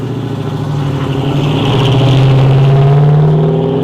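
A 1971 Plymouth GTX muscle car with a 440 six-barrel V8 revs hard and steadily. The loud engine note climbs in pitch through the burst and holds high before cutting off abruptly, with no voices over it.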